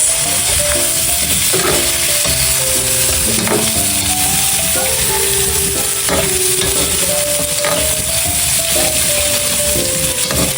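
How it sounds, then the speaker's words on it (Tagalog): Carrots and potatoes fry for buffalo kaldereta with a steady, loud sizzle, broken by repeated scraping and stirring strokes in the pan. "Medyo napiprito na po itong ating carrots. Idadagdag ko na rin po itong ating mga patatas."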